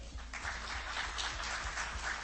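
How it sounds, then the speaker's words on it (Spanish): An audience at a UFO congress in Maipú, Chile applauds a guest being introduced, a dense, moderately distant clapping that holds steady for a couple of seconds. "Cristian Sánchez, un aplauso para él."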